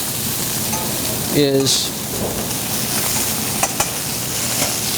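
A New York steak fries in a pan as white wine splashes in, a steady loud sizzle swelling briefly when the liquid hits, with a short spoken word and a couple of sharp clinks.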